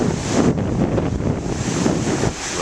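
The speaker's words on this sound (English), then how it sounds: "I'd rather come here and videotape the waves" Moderate ocean waves washing ashore on a windy day, a loud continuous roar of surf mixed with heavy wind buffeting the microphone, with no voices.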